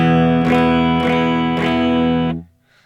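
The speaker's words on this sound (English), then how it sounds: "this is the clean sound of the lead channel on the Tone King" A sustained electric guitar chord rings with a clean amplified tone through the lead channel of a Tone King amp, strummed a few times in steady rhythm before cutting off abruptly.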